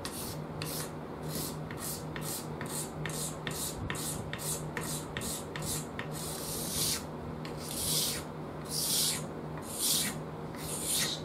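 Wood being scraped by hand to fit the neck pocket of an ultra short scale bass guitar body, heard as a steady series of close, regular raspy strokes that stretch into longer, broader passes toward the end, with no one talking.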